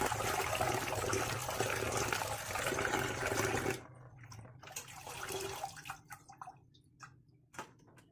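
Grated new potatoes being washed by hand in a bowl of water, with steady splashing and sloshing for the first few seconds, then quieter scattered drips and small splashes.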